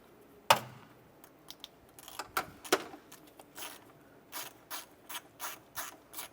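A hand ratchet snugs down an intake manifold bracket bolt on a 2008-2012 Honda Accord, a sharp initial click followed by a series of close, evenly spaced ratcheting clicks in a quiet setting.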